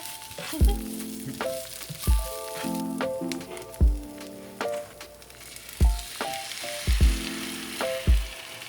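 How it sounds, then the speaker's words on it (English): An egg frying in a pan, hissing and sizzling up close, with repeated soft thumps and scraping stirs at roughly one-second intervals, no voices. "you just fry an egg like that"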